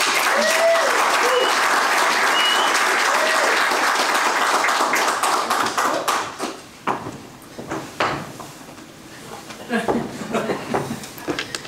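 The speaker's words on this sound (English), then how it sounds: "Let's give him a round of applause." An audience claps loudly and steadily, the applause thinning out into scattered claps and murmurs toward the end.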